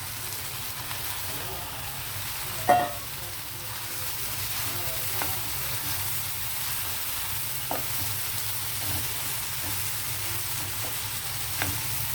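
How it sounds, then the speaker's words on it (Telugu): Ridge gourd pieces frying and being stirred in a pan of prawn curry give a steady low sizzle, with a few sharp clinks and scrapes of a spoon against the pan. "ఇప్పుడు బీరకాయ ముక్కలు వేసేద్దాం"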